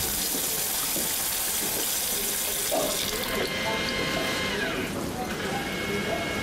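A tap gushes water loudly and continuously, a dense broadband rush that shifts partway through as the flow is shut off, with a voice faintly beneath.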